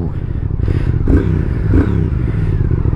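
A 2021 Triumph Speed Twin engine idles and blips close by, with a deep throbbing rumble that rises in a couple of short revs.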